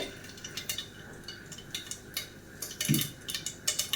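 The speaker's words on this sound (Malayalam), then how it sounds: "കടുകൊക്കെ പൊട്ടി വന്നിട്ടുണ്ട്" Mustard seeds pop and crackle irregularly in hot oil, sharp little bursts in a close, busy spattering with one louder burst near the end.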